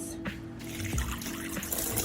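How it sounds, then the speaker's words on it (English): Water is poured into a container while gardening, making a steady close trickle and splashing as it drains through. No one speaks. "take some of the water that I had poured into the container and see if it actually works"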